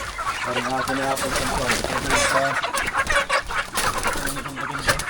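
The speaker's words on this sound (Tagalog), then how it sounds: "Ito na ang inahin yan." A mother hen clucks repeatedly and fairly loudly amid busy handling noise on a farm, the clucks coming in quick agitated runs.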